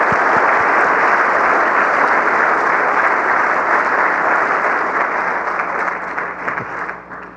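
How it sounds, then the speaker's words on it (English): Sustained applause from a large audience at a robotics summit closing keynote, loud and dense for several seconds as a guest walks to the stage, then gradually thinning toward the end. "Can we give him a round of applause"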